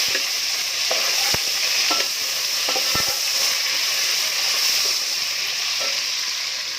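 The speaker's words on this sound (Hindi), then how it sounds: "इसमें मैंने अदरक, प्याज और हरी मिर्चें डाल दी और अब इसको हम मिक्स करेंगे" Onions, ginger and green chillies sizzle steadily in hot oil in a pan while being stirred for chana pulao, with scattered scraping clicks of the spoon over a constant frying hiss; no talking.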